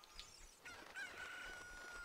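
Chicken clucking and squawking in the video game Zelda: Ocarina of Time, a few short fowl calls followed by a sustained higher squawk, moderately loud over game ambience, no speech.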